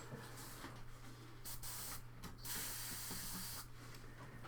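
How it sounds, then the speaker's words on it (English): Scale 75 paint hissing from an airbrush at a hobby bench, a steady close spray with short breaks and a low constant hum beneath it. "I've never done scale 75 in airbrush, so it might backfire"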